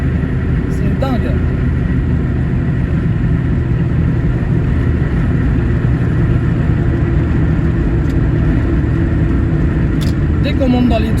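A Mazda MX-5 engine running on ethanol drones steadily and loudly throughout, a continuous low rumble that holds at high revs with a few brief shifts in pitch.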